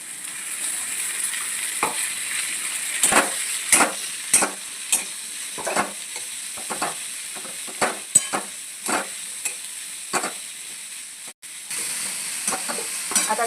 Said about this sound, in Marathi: आता आपण कढईमध्ये कांदा भाजून घेऊयात, परतून घेऊयात सोनेरी कलरमध्ये